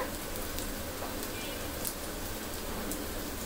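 Chicken pieces frying in hot oil for a Punjabi-style chicken dish, giving a steady close crackling sizzle that runs unbroken at an even level throughout.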